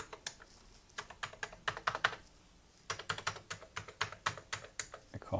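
Keys are pressed on an Amstrad/Schneider CPC 664 home computer keyboard with many faulty, non-working keys. Quick, irregular bursts of light clicking tap out in uneven rhythm, with a short pause midway, heard up close with no speech.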